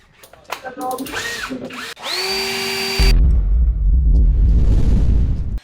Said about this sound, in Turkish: budama makinesi.